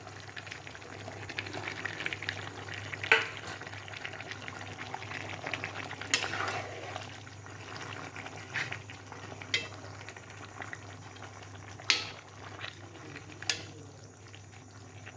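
Tomatoes cook in a kadai for Chettinad pepper chicken, giving a low, continuous bubbling sizzle with occasional soft clinks and stirring knocks.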